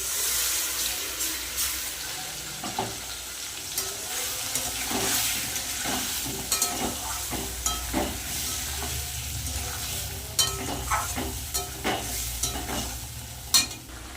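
Potatoes frying with a paste of ground chilli, cumin, onion, ginger and garlic, a steady close sizzle broken by scraping stir strokes and occasional louder utensil knocks against the pan, with no talk.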